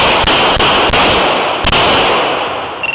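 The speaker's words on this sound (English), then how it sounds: "shots fired. Shots fired. Shots fired." Several sharp gunshot cracks at close range during a police bodycam encounter outdoors, spaced irregularly over a loud, noisy background with no speech in the moment.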